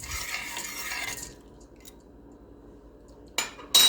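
A rice mixture is stirred in a pot on an unheated stove for a homemade skincare recipe: about a second of close scraping and swishing, then near silence, with a couple of sharp clinks at the end.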